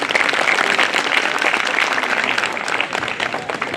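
Audience applause at an advocate enrolment ceremony of the Bar Council of Delhi, a dense, sustained burst of many hands clapping that holds steady throughout at close, loud level.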